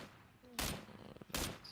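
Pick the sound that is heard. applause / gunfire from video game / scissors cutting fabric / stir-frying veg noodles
gunfire from video game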